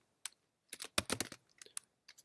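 Quick keystrokes clatter on a computer keyboard in short irregular bursts, close and crisp, with brief pauses between clusters of taps.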